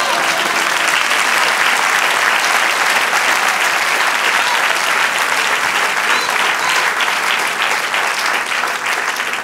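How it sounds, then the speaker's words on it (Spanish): A church congregation gives a sustained, loud, dense round of applause for the Lord. The clapping stays steady and continuous throughout, with a faint crowd murmur underneath. "denle un aplauso al Señor"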